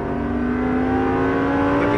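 A Lamborghini Gallardo LP570-4 Superleggera on a track, its engine pulling hard under throttle with a loud, steady, rising tone.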